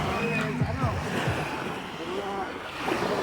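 Sea waves washing onto the beach at Naik, a continuous close surf wash with wind noise buffeting the microphone and faint voices in the background.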